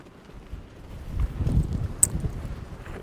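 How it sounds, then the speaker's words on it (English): Strong wind gusts at the port of Hydra in Greece, buffeting the microphone with a deep roaring rumble that swells toward the middle. A brief sharp click cuts through near the end, with no talk. "this wind is crazy"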